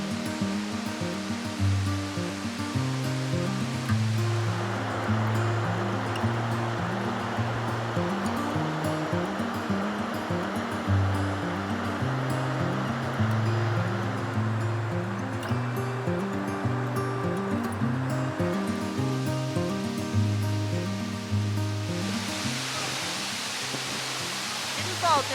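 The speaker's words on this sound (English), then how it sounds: "Lower Proxy Falls is only a short hike in from the trailhead, but we soon discovered that we would have hiked a lot longer because this waterfall was so incredibly beautiful." Lower Proxy Falls, a waterfall in Central Oregon, roars as a steady, broad rush of falling water, loud and continuous, with a repeating low tonal pattern running beneath the spray.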